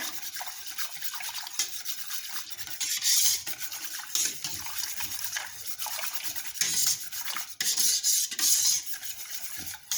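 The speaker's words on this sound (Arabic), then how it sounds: "ونحاولوا نخلطو مزيان" A lemon dessert mixture thickened with eggs is stirred in a pot, giving a steady rasping, scraping churn of the spoon against the pot with brief louder strokes. No one speaks.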